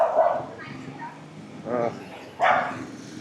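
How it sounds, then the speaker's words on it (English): Dogs in Siem Reap, Cambodia let out a few short yipping barks in separate bursts, spaced over a few seconds, heard alongside a voice. "as you can hear, we got some of the dogs"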